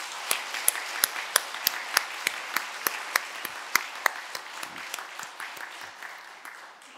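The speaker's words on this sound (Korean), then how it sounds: "여러분 환영하면서 앞으로 기대하는 마음으로 크게 박수하시겠습니다" Korean church congregation claps to welcome a new youth pastor during a Lent Sunday service, starting with sharp, distinct claps that blend into steady applause and slowly thin out, with no talking over it.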